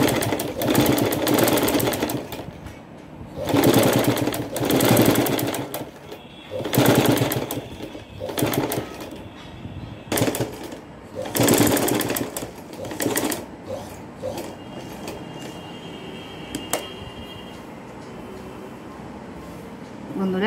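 A sewing machine stitches fabric for a new neck design, running in several loud bursts of a few seconds each with short pauses between, then quieter handling toward the end.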